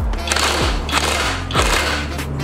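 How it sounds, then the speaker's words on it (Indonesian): An impact wrench with a 19 mm socket hammers a nut tight on the front shock absorber of an All New Terios or Rush, giving loud, continuous rapid rattling bursts close up. "Lalu kita impact aja ya, kita kencangkan."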